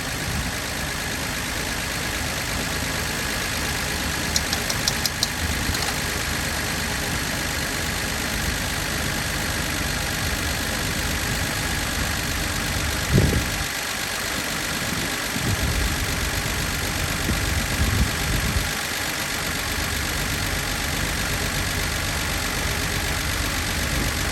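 The engine of a 1976 Dodge D-300 flatbed dump truck idles cold with a steady, even rumble, close and continuous, with a few faint knocks and clanks around it.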